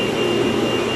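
A loud Tristar vacuum cleaner runs on carpet during an in-home demonstration, giving a steady, close, unbroken roar that holds the same level throughout, with no talking.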